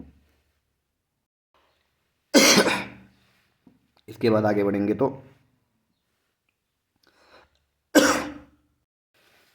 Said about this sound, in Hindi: बार बार रोकना पड़ रहा है मुझे वीडियो को क्योंकि मुझे खांसी हो रही है बहुत तेज़।